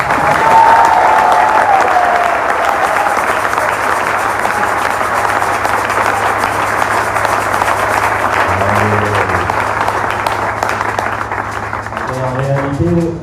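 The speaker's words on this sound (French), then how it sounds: "Merci pour ces quelques acclamations." A church congregation at a Sunday service breaks into loud, sustained applause mixed with cheering voices that carries on steadily, with a few scattered vocal calls and claps near the end.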